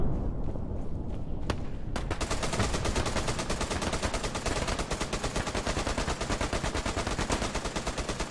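Machine gun fire in the World War II shooter Hell Let Loose during an American counterattack, a loud, relentless rapid stream of rounds after a couple of isolated shots, continuing steadily to the end.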